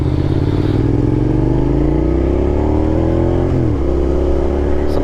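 A V-twin motorcycle engine revs loud and close, its pitch climbing steadily, dipping briefly, then rising again with no talk over it.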